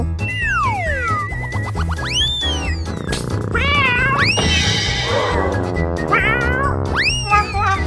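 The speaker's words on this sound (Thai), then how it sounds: "หมายเลขสามเจ้าแมวเจ้าแมว" Cat sounds in a children's animal cartoon, a series of loud, close meows with rising and falling pitch, mixed with playful cartoon sound effects and music.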